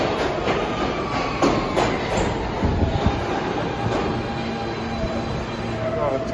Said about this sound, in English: So we're waiting on the subway